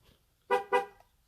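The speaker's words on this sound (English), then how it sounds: "push and hold the center button till the horn honks twice" A 2018 Chevrolet Silverado LTZ horn honks twice in quick succession during a tire pressure sensor relearn, two short, loud, close blasts after a quiet lead-in.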